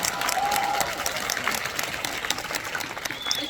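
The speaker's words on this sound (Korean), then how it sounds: "네, 박수 한번 부탁드립니다." A theater audience at a film screening Q&A bursts into strong, sustained applause, dense clapping from a large crowd with a few faint cheers mixed in, loud and continuous throughout.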